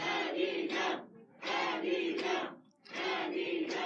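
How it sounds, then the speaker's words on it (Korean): A political rally crowd for An Hee-jung roars in three loud, surging waves of cheering and shouting, each breaking off briefly before the next swell. "함성 소리가 큰데요."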